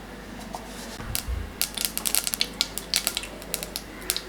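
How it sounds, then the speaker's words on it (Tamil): Mustard seeds spluttering in hot coconut oil in a kadai for Kerala-style aviyal, a rapid scatter of sharp crackling pops that begins after a low thud and keeps going irregularly close to the microphone. "எண்ணெய் சூடானதும் கடுகு சேர்த்துக்கலாம்."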